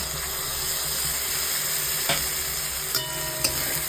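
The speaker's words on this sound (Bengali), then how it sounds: "এবার মশলাটাকে ভালো করে কষিয়ে নেব" Spice masala of salt, cumin, turmeric and coriander powder being sautéed in a pan for a vegetarian egg-shell, potato and pumpkin curry: a steady close sizzle with occasional soft clicks of stirring, no talking.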